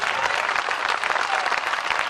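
An audience claps at a Hindi poetry recital, dense sustained applause from a crowd that stays loud and steady across the short stretch, with no voices over it.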